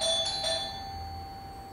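A house doorbell rings two clear electronic chime tones in quick succession, loud and close, then its ring fades into quiet room tone.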